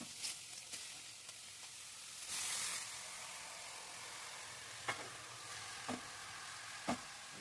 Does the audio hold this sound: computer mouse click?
no